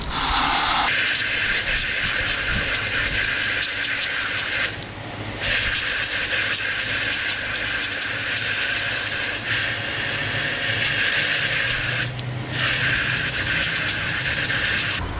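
Garden hose spraying water over an Aiper Scuba S1 Pro pool robot beside an in-ground pool, a steady close hiss of spray running nearly continuously, with two short pauses where the flow cuts off.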